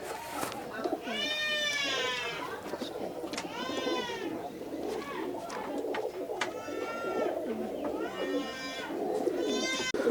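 Teddy and KTM pet pigeons call at a home loft in Kolkata. Several bright, rising and falling calls come in bursts over a steady background murmur.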